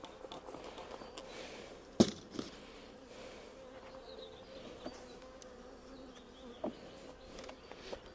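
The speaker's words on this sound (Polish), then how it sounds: "Bardzo dużo pszczoły, jak na pszczołę, jak na rodzinę, gdzie nie były długo składane jaja" Honeybees humming around an open hive during a colony inspection, a soft continuous buzz with individual bees passing near, a couple of sharp knocks and clicks from handling the hive, no talking.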